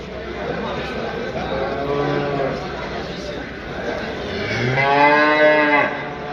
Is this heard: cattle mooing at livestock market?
yes